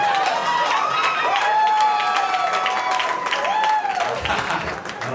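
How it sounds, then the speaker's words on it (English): An audience at a stand-up comedy show applauds and cheers loudly and without a break for several seconds. Whoops and whistles ride over the dense clapping. "I don't know why y'all cheer for that"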